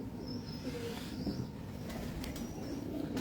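Soft cooing of pigeons in a loft drifts at low level, a gentle continuous murmur with a few faint chirps and light rustles, no speech.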